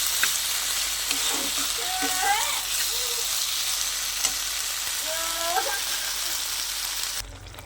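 Bean-leaf paturi cooks in a pan with a dense, continuous sizzle up close, with a few brief, faint voice-like sounds in the background before the sound cuts off near the end.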